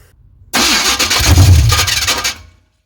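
A Chevrolet C10 with a 383 engine cranks and catches, roaring up loud and rough for about two seconds before dying abruptly into silence.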